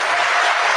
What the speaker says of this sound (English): because of that thunderous applause from that Christian audience